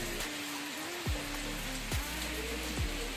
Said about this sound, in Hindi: गाइस अभी एकदम से बहुत तेज बारिश शुरू हो गई है